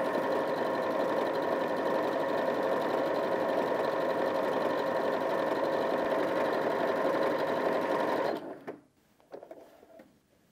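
A Janome 5060 QDC sewing machine stitching a wavy decorative line at fairly high speed, a close, steady whirring hum that runs continuously for about eight seconds, then stops abruptly, leaving faint handling noises.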